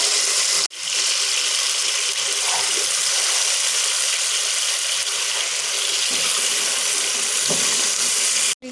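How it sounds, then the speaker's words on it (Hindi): Meat and rice frying together in masala for a biryani with broken rice, giving a steady, loud, broadband sizzle that runs almost unbroken for several seconds. "अब अच्छे तरीके से इसको मैं भूनूँगी, अच्छे तरीके से भून लेना है।"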